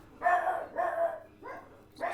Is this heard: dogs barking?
yes